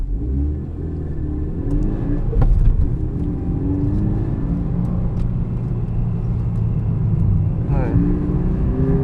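Engines of a Toyota GT86 and a Mazda MX-5 idling and driving slowly on a go-kart track, a steady low rumble with a brief rise in revs, near and continuous.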